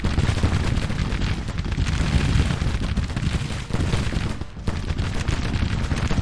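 Dense Civil War battle fire from Grand Tactician: The Civil War, continuous rolling musket volleys and booming artillery with no pause, loud and overlapping across the whole stretch.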